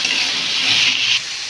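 A little water is poured into a cooking pan, a brief close splashing pour that stops abruptly just over a second in.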